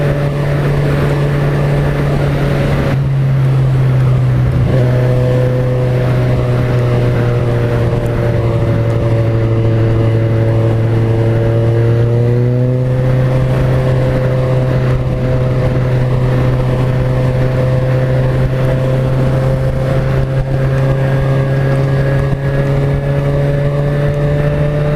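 A Kawasaki Ninja 1000 engine drones steadily while riding at around 4,500 rpm, a loud sustained hum with slight pitch shifts and constant wind rush, no talk.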